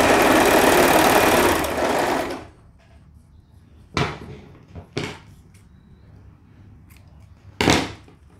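A home sewing machine runs steadily for about two seconds while stitching elastic closed on a teenager's pajamas, then stops, followed by a few sharp clicks and handling knocks.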